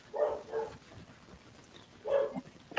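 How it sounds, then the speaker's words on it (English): A dog barks in a few separate bursts, first a quick double bark and then one more after a pause, heard faintly and at a distance indoors. "or is that your dog"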